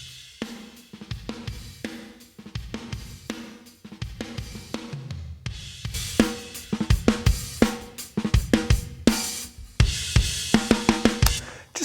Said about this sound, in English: a little bit of room, a little bit of size, kind of space to it.